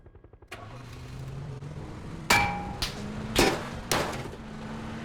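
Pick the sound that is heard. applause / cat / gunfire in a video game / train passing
gunfire in a video game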